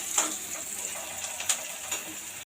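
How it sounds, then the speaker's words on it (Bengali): Onions fry in oil in a home kitchen pan where chicken is also being cooked, giving a soft continuous sizzle with a few sharper crackles and pops scattered through it. "ওই যে তেল দিয়ে পেঁয়াজগুলো আগে ভেজে নিচ্ছে।"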